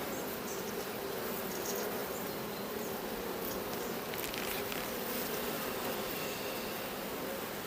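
Honeybees swarming around an aggressive hive during a queen acceptance check, a dense, continuous close buzzing drone that holds steady throughout, no talking.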